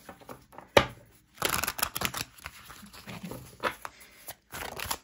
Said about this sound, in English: Give it a good shuffle and see.